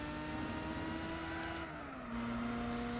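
A Mazda RX-8 engine in the racing video game Gran Turismo 4, run in an RX-8 cup race, holds a steady high-revving drone whose pitch eases slightly and then settles. It is continuous and fairly quiet, with no talk.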